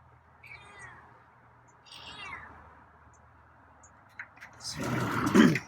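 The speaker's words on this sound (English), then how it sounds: "Mini meow there." A feral cat gives two soft, short meows a second or so apart outdoors near a house, faint and close, followed by a louder burst of rustling noise.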